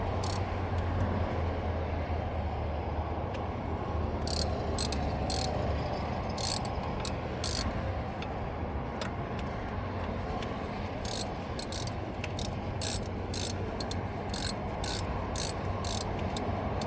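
Ratchet unscrewing hardware on a DD15 injector, bursts of quick clicking ratchet strokes at irregular intervals over a steady low background hum, faint and close, with no talk.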